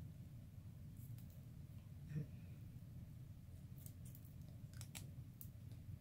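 Scissors trimming a paper flower corsage: a few faint, quick snips, with one clearer cut in the middle, over a low steady background hum.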